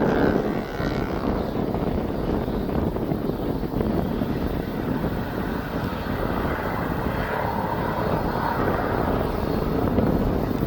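A TUI airliner departs East Midlands Airport, a steady broad engine roar heard at a distance, constant and moderately loud throughout with no talk.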